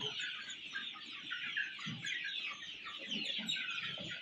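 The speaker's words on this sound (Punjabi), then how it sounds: "ਕਾਫੀ ਮੁਰਗੀਆਂ ਹਨ ਤਾਂ ਮੁਰਗੇ" Desi (native) chickens on a poultry farm cluck softly and continuously, several birds murmuring together at a moderate distance with no talking.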